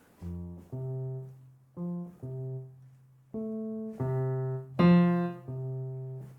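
A beginner plays piano in halting, uneven chords, about eight separate stabs with pauses between them, the later ones louder and harsher, close and alone without talking.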